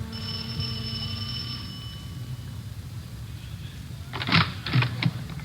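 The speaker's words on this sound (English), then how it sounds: "We went up the front stairs and rang the doorbell." A bell-like tone fades out, then a few sharp metallic clacks and rattles follow, close and moderately loud over a steady low hum.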